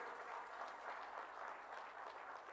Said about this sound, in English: I would request you to kindly give a round of applause to our partners today